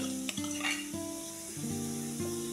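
Roasted potato salad with chilli mayonnaise dressing being stirred and tossed in a bowl. Steady close mixing and scraping runs continuously throughout, with no talking.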